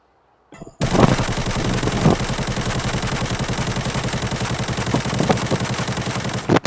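An AK-74N rifle in Arena Breakout fires a long sustained full-auto burst at a shooting range, loud and close, with a steady fast rhythm of sharp cracks running for nearly six seconds after a brief click.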